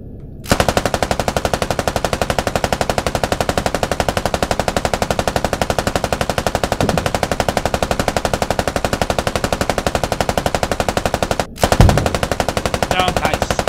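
A helicopter door gunner's machine gun fires in a video game, a rapid, unbroken stream of loud shots lasting over ten seconds with a brief pause before firing resumes.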